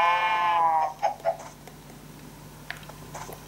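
A sheep in the video game Minecraft gives one wavering bleat at the start, followed by a few soft short sounds and faint ticks over a quiet background.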